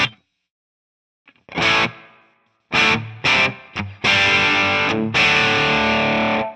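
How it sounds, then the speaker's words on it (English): Distorted electric guitar through a Tonex amp model with reverb switched on, played in short chugging bursts and then longer sustained chords, each trailing off into a reverb tail. "So we turn this reverb on."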